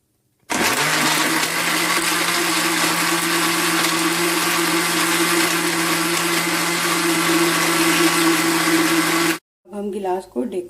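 An electric blender whirs steadily and loudly for about nine seconds, mixing an Oreo milkshake of ice cream scoops and Oreo biscuits, then cuts off abruptly, followed by a brief voice.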